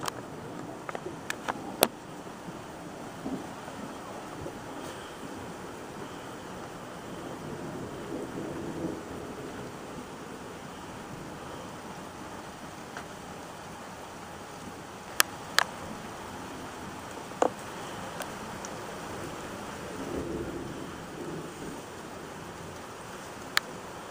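Steady rain with wind during a summer thunderstorm in Worcester, Massachusetts, a constant wash of noise with a few sharp crackles and no talking.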